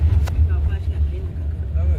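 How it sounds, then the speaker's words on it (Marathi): A car drives along a road near Tala in Raigad's Konkan region and picks up speed to around 60–70, giving a steady low engine drone with a faint voice. "हा बघ हे बघ कसली जाते गाडी."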